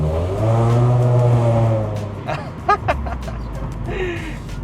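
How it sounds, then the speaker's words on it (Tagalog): 2017 Honda City with a chambered Kakimoto muffler revving, a loud bassy drone rising then falling away, followed by quieter idle under people talking nearby. "iconic siya dito sa yung bassy na sound Oo. na chambered."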